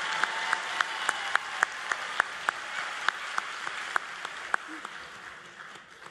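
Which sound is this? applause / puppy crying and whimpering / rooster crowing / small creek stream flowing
applause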